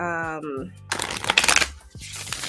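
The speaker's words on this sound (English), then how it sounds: "That was a bad shuffle." Tarot cards are shuffled close by in quick, papery riffling bursts that come and go, with a person talking before and around the shuffling.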